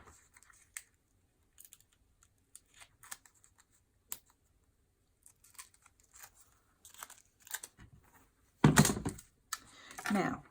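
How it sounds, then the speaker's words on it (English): Tape tearing and pressing onto a handmade paper card at a craft table: scattered soft taps and crinkles, then a loud close rip of tape near the end followed by a shorter second pull, no talking. "So let's put some tape on there."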